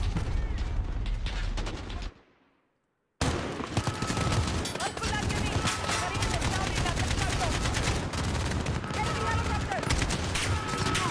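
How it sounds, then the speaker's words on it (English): Rapid gunfire from Call of Duty Modern Warfare 2019 as a target is shot down, with dense automatic bursts and booms that drop out briefly and then resume loud and continuous. "See if I can shoot it down."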